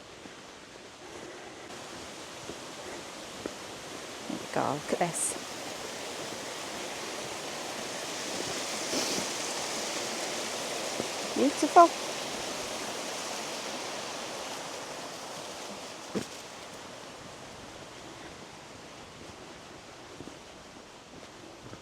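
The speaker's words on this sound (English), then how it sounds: "Can you hear the water?" Water runs below Witherns Clough reservoir in a wooded spot on the moors near Mytholmroyd, Hebden Bridge, a steady broadband rush heard from nearby, with someone briefly speaking over it.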